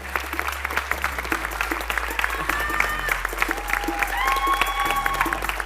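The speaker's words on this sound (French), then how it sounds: "On applaudit le jury, on leur souhaite bon courage." Audience at a science talk competition final applauding the jury, brisk steady clapping with a few voices and a low hum beneath.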